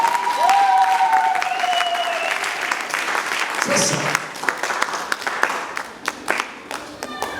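A church congregation claps steadily through a sermon on prayer, the dense applause running beneath a preacher's continuing speech and fading into scattered claps near the end.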